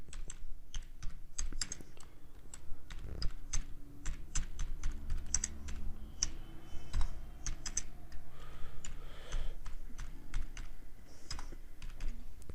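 Keys clack steadily on a computer keyboard as text is typed into a PowerPoint shape, a close, dry run of rapid taps with no talking.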